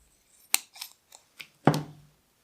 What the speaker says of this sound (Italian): Con delle forbici faccio un semplice taglio sulla plastica.